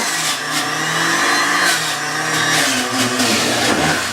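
A steady, loud motorized grinding and whirring as a juicer chews through carrots, continuous for several seconds with slight shifts in pitch.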